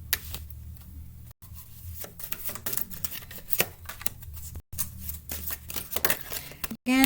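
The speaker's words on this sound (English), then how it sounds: "I shuffled all these and split it in between just to save a little time." Tarot cards are shuffled by hand in quick riffling bursts of crisp flicks and slaps, separated by brief pauses.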